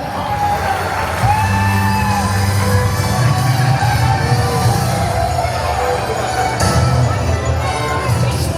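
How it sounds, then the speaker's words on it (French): A crowd cheers loudly and steadily for amateur fighters at the GFTC 004 G-Fight combat event on Réunion, with whoops and yells over a constant roar of voices that lasts throughout. "on les applaudit encore une fois"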